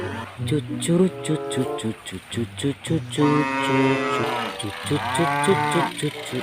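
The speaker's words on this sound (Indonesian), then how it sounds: "Wah, di sini ada suara sapi teman-teman" A cow moos repeatedly with long, drawn-out lowing calls, close by and loud, amid a cluttered background of other noise.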